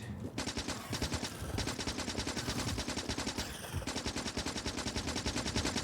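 Early-game gun firing at biters in Factorio, a rapid, steady stream of machine-gun shots with a brief pause before the bursts resume, loud and close with no talking.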